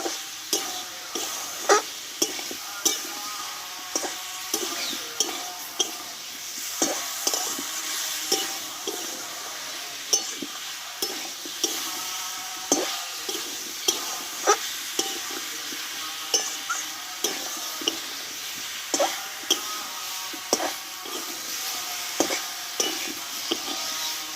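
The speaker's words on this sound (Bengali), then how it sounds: "আলু আর এঁচড়টা মশলার সঙ্গে আমি দুই থেকে তিন মিনিট মতো ভালোভাবে অল্প আঁচে আমি কষিয়ে নেব" Jackfruit and potato fry with spices over low heat, giving a steady gentle sizzle punctuated by regular scraping stirs of a spoon against the pan, repeated roughly every second, without talk.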